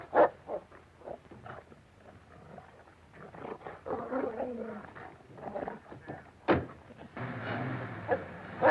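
A dog in an old comedy film barks and snarls in sharp, close bursts amid muffled scuffling and voices, ending with a louder growling stretch.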